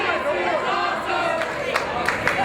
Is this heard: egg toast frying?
no